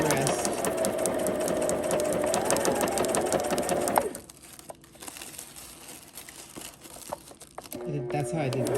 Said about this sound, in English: And I know it's very odd to sew like this because most people sew with their feet, right?